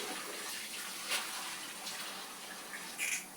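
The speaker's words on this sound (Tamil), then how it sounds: "வெங்காயம், தக்காளி, அதுக்கப்புறமா இந்த கருவேப்பிலை அதே மாதிரி ஒரு 3 டைம்ஸ் வாஷ் பண்ணிக்கோங்க" Running water splashes continuously from a tap, with faint handling and a couple of small clinks as onions, tomatoes and curry leaves are rinsed beneath it in a kitchen.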